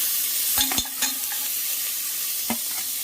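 Crushed ginger, garlic and green chilli sautéing in a hot pan, a steady close sizzle broken by a few sharp scrapes and stirs of a spoon against the metal, no voices.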